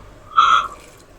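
Water poured from a glass into a pan of fish curry before boiling, heard as one short splashing pour of about half a second, fairly close and clear, with no talking.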